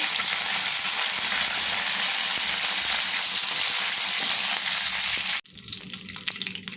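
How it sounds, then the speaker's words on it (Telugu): Garlic and curry leaves frying in hot oil with tempering spices, a loud, steady hiss and crackle that runs without a break, then cuts off abruptly into fainter sizzling and light clinks near the end. "పోపు దినుసులు ఫ్రై అయ్యాక రెండు వెల్లుల్లిపాయలు కొంచెం కరివేపాకు"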